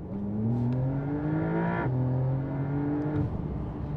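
A 992-generation Porsche 911 Carrera 4 GTS with sports exhaust pulls hard, its engine note climbing steadily, dropping at a quick gear change, then rising again, loud and close.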